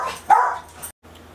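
Dogs upset by a mail carrier give one loud, close bark, then a few fainter yips before a sudden drop to quiet.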